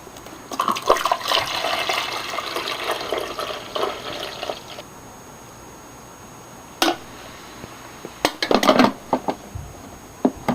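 Water pouring from a container into the reservoir of a Sunbeam coffee maker, a gurgling stream for several seconds, then quiet with a few splashes and knocks near the end.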